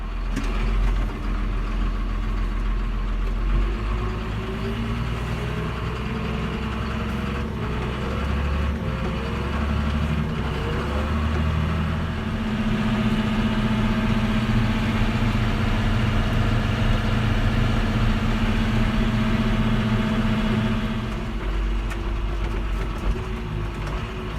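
A tractor's heavy diesel engine idles steadily with a deep low rumble, its pitch shifting slightly partway through, continuous and close.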